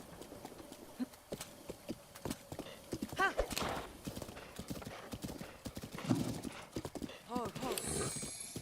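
Horse gallops in Zelda: Breath of the Wild, steady rapid clip-clop hoofbeats throughout with a couple of whinnies and neighs cutting in, loud and close, with someone talking over parts of it.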